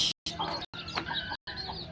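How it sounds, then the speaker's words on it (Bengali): A hen clucks among newly hatched chicks in a village home, with short close peeps and clucks broken by brief silences. "আমি যে আমার মুরগির বাচ্চা উঠছে"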